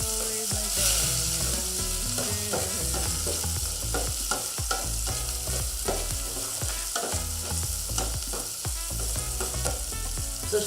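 Onions sizzle and fry steadily in a pan for a home-cooked supper, with a constant close crackling hiss and repeated clinks and scrapes of stirring throughout; no talking.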